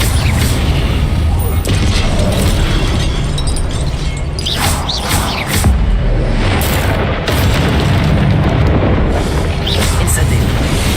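Incendio fire spells cast in Hogwarts Legacy unleash a loud, continuous roar of booming, crackling blasts with repeated bursts, and a voice speaks over the din.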